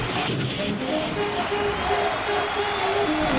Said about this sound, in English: there were people cheering and singing